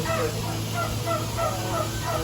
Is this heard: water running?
no